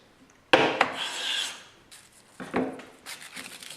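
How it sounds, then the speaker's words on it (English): A hand plane scrapes along wood in a few long rasping strokes, close and fairly loud, with short pauses between passes. "Make some shavings."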